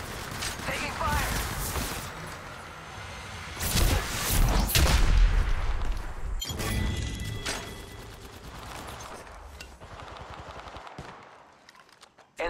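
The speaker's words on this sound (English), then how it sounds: "Shots fired at me." Gunfire in the battle royale video game Apex Legends, with rapid automatic bursts and scattered shots in a dense, busy firefight, along with game voice callouts and other game sounds.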